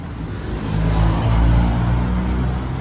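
A Ford Ranger Next Gen engine runs after a remote start, a steady low rumble that swells slightly midway and holds at a close, even level.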